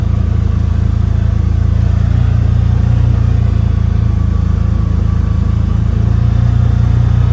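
The engine of a 2023 CF Moto Z Force 950 HO Sport UTV runs steadily, a loud, deep, constant drone close by while the machine is driven, with no speech.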